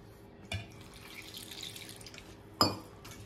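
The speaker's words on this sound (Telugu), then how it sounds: "మనం ఇప్పుడు వాటర్ పోసుకున్నాము" Water is poured into a bowl of flour mixed with salt for puri dough, making two brief, faint splashing bursts against a quiet background.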